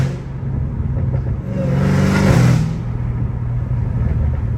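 A straight-piped Dodge Hellcat Redeye revs up once, rising to a loud, raw engine roar that swells and then falls back to a rumbling idle, heard from inside the car.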